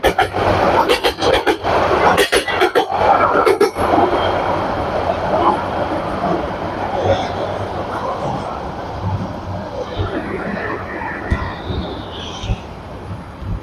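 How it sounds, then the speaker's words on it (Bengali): An intercity train rumbles past at close range with a loud roaring wash, clattering bursts early on and a gradual fade as it moves away, with a voice talking over it. "ট্রেনটা কোথা কোথা থেকে আসছে"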